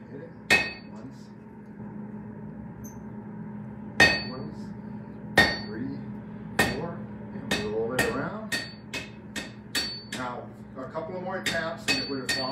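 Blacksmith's hammer striking hot iron on an anvil in a tannery workshop, a series of sharp ringing metallic blows, first widely spaced and then quicker repeated taps, close and loud over a low steady background hum.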